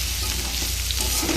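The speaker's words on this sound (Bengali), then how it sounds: "এবার এটাকে নেড়ে চেড়ে আবার ঢাকা দিয়ে দেবো।" Taro stems frying in a pan while being stirred, giving a loud, dense, continuous sizzle with soft scraping of the stirring mixed in, heard up close with no talk.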